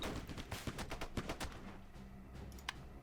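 Harpoons fire in the airship combat game Airships: Conquer the Skies as a rapid burst of sharp, percussive shots over a continuous rumbling battle din, with a few brighter impacts near the end.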